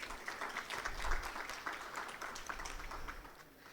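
Audience applause at a leadership conversation event in Pakistan, a brisk burst of many hands clapping at moderate loudness that runs steadily for a few seconds without speech.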